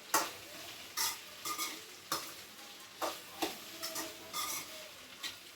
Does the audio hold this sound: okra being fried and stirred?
yes